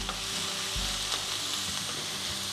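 Vegetables and instant packet noodles stir-frying in oil in a pan, a steady close sizzle with a soft thump and scraping stirs throughout, no voices.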